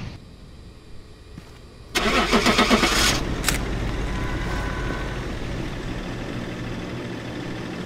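A car engine in Phasmophobia cranks and catches with a loud burst, then settles into a steady low idle rumble with no one talking.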